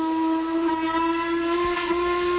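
A steam locomotive whistle blows one long, steady, piercing tone with bright harmonics, loud and close, sustained through the whole moment with faint rumble beneath.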